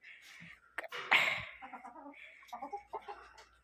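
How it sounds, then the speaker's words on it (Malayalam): A pet chicken clucking close by, with short sharp calls and a sneeze-like burst, while people speak softly around it. "നമ്മളെ കോഴിയാ."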